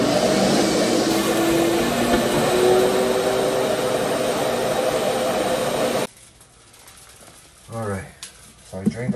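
A shop vacuum sucks water out of a hotel ice machine with a loud, steady roaring whine that cuts off abruptly after about six seconds, followed by someone talking nearby.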